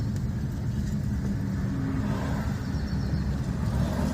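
During a driving lesson, a car accelerates gently in second gear, giving a faint, steady low engine hum and road rumble with no talking.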